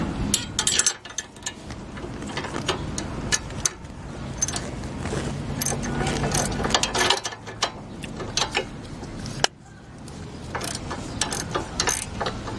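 Ratchet wrench with a 17 mm socket working on a Honda CR-V front strut assembly, a steady run of quick metallic clicks with clinks of tools and parts, close and fairly loud.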